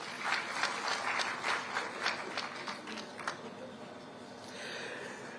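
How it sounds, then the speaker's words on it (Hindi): Moderate applause from a seated audience at a government ceremony, a steady patter of claps that fades after a few seconds, leaving quieter room ambience. "उनके लिए भी हम तालियां बजाएं।"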